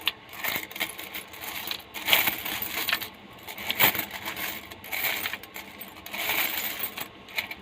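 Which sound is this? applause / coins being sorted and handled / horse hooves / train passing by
coins being sorted and handled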